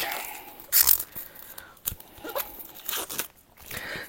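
Crinkly tearing and crunching of plastic wrap being peeled off a vinyl record, coming in short close bursts with pauses between, faint and handled carefully.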